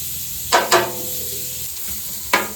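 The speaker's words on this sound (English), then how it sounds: "Meat's going on." Fajita meat sizzles on a Blackstone griddle, a steady close hiss broken by three sharp, bright bursts as pieces hit the hot surface or a spatula scrapes across it, with no talking.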